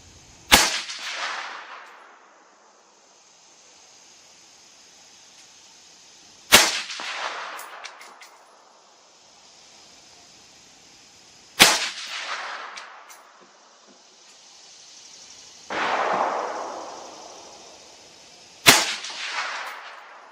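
An AR-X Lightfighter rifle firing 69 grain Winchester .223 rounds, five sharp loud shots spaced several seconds apart, each followed by a long echoing decay across open ground.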